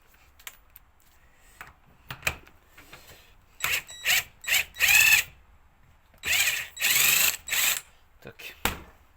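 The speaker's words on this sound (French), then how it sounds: "Et ici je vais mettre un coup de clé à choc." An impact wrench works on a Sachs ZF 48mm enduro motorcycle fork in a workshop, firing several short hammering bursts in two clusters, separated by quiet gaps and small tool clicks.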